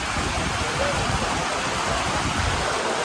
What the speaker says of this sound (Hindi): देख रहे हो कितनी तगड़ी बारिश है।